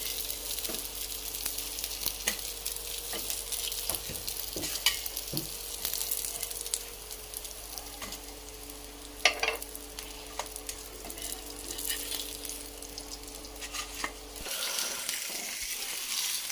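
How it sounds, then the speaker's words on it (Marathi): Fish pieces sizzle steadily on a hot griddle, with occasional crackles and a faint hum underneath; the frying sound thins out near the end. "बाकीचे पीस पण आता फ्राय होतील"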